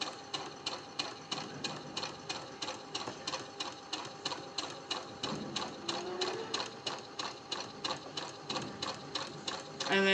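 Sewing machine stitching a quilt block in short rhythmic runs, a steady mechanical clatter repeating about every half second, fairly quiet and close, with someone speaking briefly partway through.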